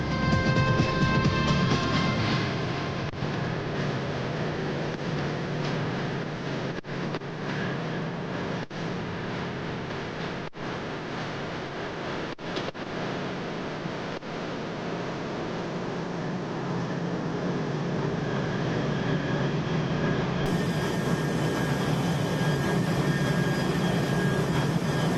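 A jet aircraft moves across a supercarrier flight deck, a loud, steady roar of turbine engine noise with a broad rumble that swells slightly toward the end.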